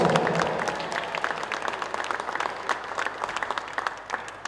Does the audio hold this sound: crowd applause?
yes